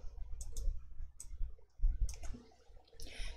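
A computer mouse clicks sharply and close in a quiet room, a handful of crisp clicks including quick double clicks, spaced unevenly.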